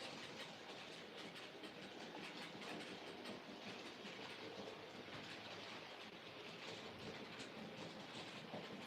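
A model railway train runs around a layout with a continuous, faint clickety-clack of small wheels on track joints and a soft rolling rumble, steady throughout with no voices.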